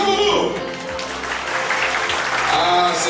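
Audience at a party congress applauding, a broad continuous wash of clapping filling the hall, with voices and music mixed in underneath.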